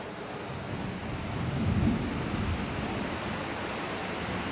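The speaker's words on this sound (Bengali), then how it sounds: "বাহিরে অনেক ঝড় বৃষ্টি" Heavy rain during a storm outside gives a dense, steady wash of noise, with a low thunder rumble swelling near the middle, and no voices.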